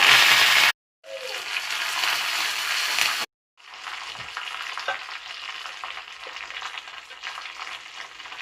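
Hot sesame oil sizzles and crackles steadily as fennel seeds and dried red chilies temper in the pan for sambar, with two brief silent gaps before the frying resumes, close and fairly loud.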